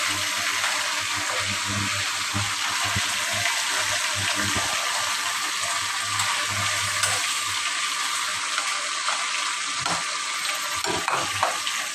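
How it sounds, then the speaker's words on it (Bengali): Pieces of chicken fry in hot oil in a pan for garlic chicken, giving a loud, steady, close-up sizzle that continues unbroken throughout, with occasional soft stirring knocks underneath. "আমার মুরগি ভাজা প্রায় শেষের দিকে।"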